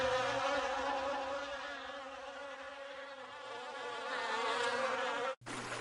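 An angry swarm of bees buzzes loudly and continuously around a bear as a story sound effect, a close, droning hum that holds steady before cutting off abruptly near the end.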